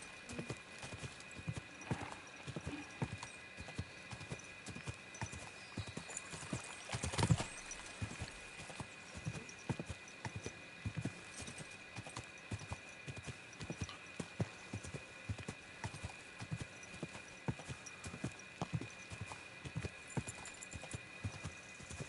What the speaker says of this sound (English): Come on, trusty steed.